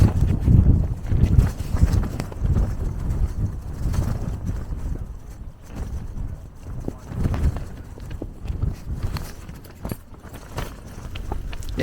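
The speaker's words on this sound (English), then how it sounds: "See, it's still windy." Wind buffeting a morning wild campsite, a continuous loud rumbling gust noise across the microphone with uneven surges and dips, lasting the whole stretch.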